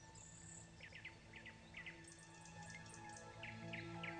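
Cartoon birds chirp again in a forest scene. Short, high twittering bursts repeat in quick pairs and trills, soft and somewhat distant, over a faint steady hum.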